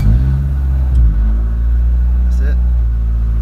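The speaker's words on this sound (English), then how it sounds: "We can go ahead and start the car." Honda CRX engine idling with a steady low rumble and a slight rev near the start, close by, with a brief spoken comment over it after a check engine light repair.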